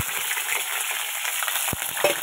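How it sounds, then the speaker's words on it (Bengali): Pieces of pointed gourd fry in hot oil in a wok with a continuous close crackling sizzle, marked by one dull knock from a utensil. No talking. "পটলগুলো আগে দিয়ে ভাজা করে নেবো ভালো করে"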